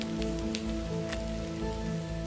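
Rain falls in the Sonoran desert at monsoon onset, a close, steady patter of drops striking surfaces with scattered sharper splashes.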